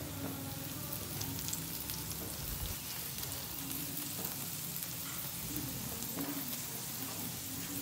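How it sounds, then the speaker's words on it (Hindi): Parathas fry on a hot pan in a continuous, even sizzle that holds steady throughout, close and dominant, with faint occasional clinks and no clear speech. "ये देखिए हमारे मज़ेदार से गर्मा गर्म पराठे बन के बस रेडी होने वाले हैं।"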